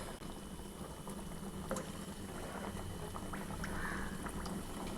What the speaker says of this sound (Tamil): கொஞ்சம் மட்டும் எண்ணெய் கொப்பளிக்கணும்.